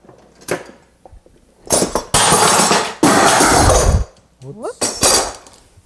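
A metal clamp is fitted onto a wooden workpiece during clock-making inlay work, producing loud clattering, knocking and rattling bursts of metal on wood. Someone briefly exclaims.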